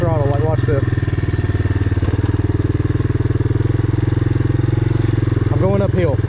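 A Honda Big Red 250es three-wheeler engine chugs nearby with a steady, throbbing idle as it gives itself throttle, with brief voices talking over it at the start and end.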